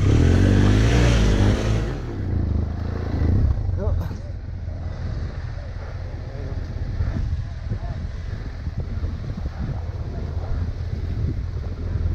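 A Yamaha WRF450 dirt bike on an off-road adventure ride roars loudly and up close for about two seconds, then drops to a low, steady rumble under gusty wind noise and faint voices.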